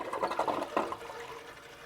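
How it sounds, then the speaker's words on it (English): A TOTO toilet flushes after repair of its flush and fill valves, a close, fairly loud rush of water that swells in the first second and then settles into a steadier, softer draining wash. "we're going to give it another flush."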